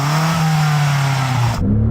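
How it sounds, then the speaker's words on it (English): A BMW M5 CS engine revs loudly and close up, a sustained high-rpm drone held against a soft limiter before the note drops away near the end. "So I'm going to rev up the BMW,"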